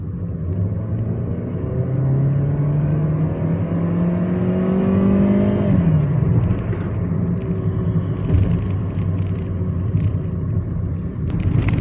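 A Volkswagen Santana's engine revs up steadily, its pitch rising for several seconds before a gear change drops it, then climbs again in a loud, close, continuous drone with no talking.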